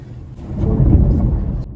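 Low rolling thunder builds and swells as the weather turns bad, a deep rumble that peaks midway and then fades, heard outdoors with faint background noise.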